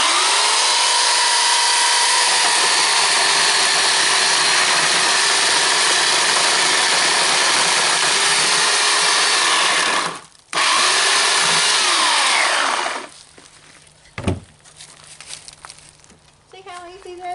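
An electric chainsaw cuts wood on a sawbuck built from pallets: a loud, steady motor whine runs for about ten seconds, cuts out briefly, resumes, then stops, leaving quieter knocks and handling sounds.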